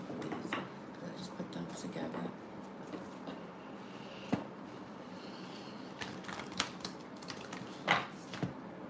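A deck of cards being shuffled by hand at close range, with soft rustling flicks and scattered sharper snaps over a faint background hiss, no voices.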